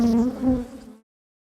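A dense, droning buzz of many honey bees close by during hive work, steady for about a second before cutting off abruptly into silence.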